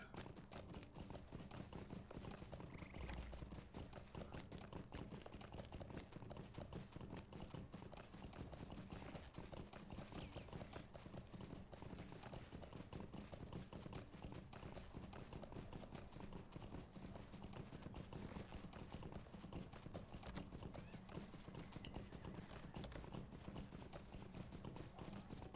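Continuous rhythmic clip-clop of a galloping horse's hooves in the online game Lord of the Rings Online, steady and faint throughout with no talking.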